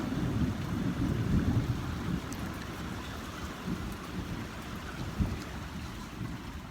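A thunderstorm: steady rain and low rumbling thunder heard as a continuous wash, with one brief louder crack late on and no voices.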